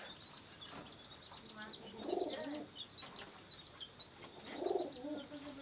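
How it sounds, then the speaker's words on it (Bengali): Two soft, low pigeon coos rise out of a steady hiss of insects and birds, each brief burst rounded and close, spaced a couple of seconds apart; the birds are fancy high-flyer pigeons, golden Rampuri types. "একটা ফিমেল কবুতর"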